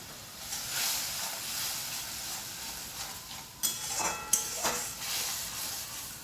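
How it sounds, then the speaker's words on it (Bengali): Spice paste frying in oil in a pan while cooking a potato and pointed gourd curry, a soft steady sizzle with a few louder stirring scrapes near the middle and end. "মশলাটা ততক্ষণ কষতে থাকুক, কারণ মশলা থেকে তেল বার হবে"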